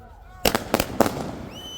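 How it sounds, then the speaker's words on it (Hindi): Firecrackers set off in celebration in Baramulla, a quick burst of three or four sharp bangs with crackling tails, close and loud, followed by a thin whistling rise. "उनके परिजनों और रिश्तेदारों ने खूब पटाखे छोड़े।"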